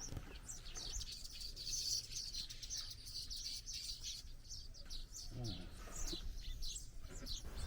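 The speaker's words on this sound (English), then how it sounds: "I was alerted by a constant chirping of birds." Constant busy chirping of many birds along a canal in Thailand, a dense overlapping chatter of high tweets that carries on throughout at moderate level.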